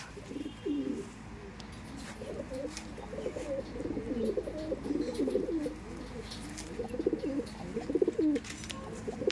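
Kaldom pigeons coo steadily in a low, rumbling chorus, overlapping calls continuing throughout at close range against a constant background hum.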